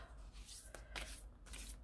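A deck of tarot or oracle cards is shuffled by hand in a quiet room, producing a few soft, close riffling bursts over about two seconds.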